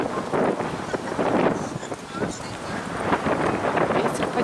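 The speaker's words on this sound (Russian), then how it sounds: "Ветер поднялся." Wind blowing hard across the microphone outdoors in a city, a continuous loud buffeting rush under someone talking.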